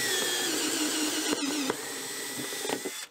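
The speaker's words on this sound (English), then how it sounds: "I'm going to open the hole all the way up to 3/4 inch with my step bit" A power drill turns a step bit to widen a hole to 3/4 inch in a plastic carry case. The whine is steady and close, with a brief catch or two partway through and no voices.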